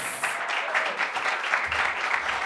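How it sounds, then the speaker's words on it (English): A seminar audience applauds, a steady, moderately close patter of many hands clapping without pause throughout, with no speech over it. "I want you to give a massive round of applause to Alex Day"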